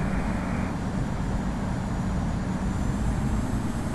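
Airliner taking off from the runway in the Infinite Flight simulator, a steady broadband engine roar that holds constant and loud throughout with no talk.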